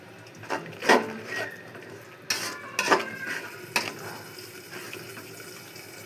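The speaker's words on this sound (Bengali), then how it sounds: "এখন মশলার একটু লড়াচড়া করে মিশিয়ে দেব" A spoon stirs chili powder, salt and a splash of water together in a cooking pan, giving a few quiet scraping, clinking strokes spaced apart against a soft background, with no talking.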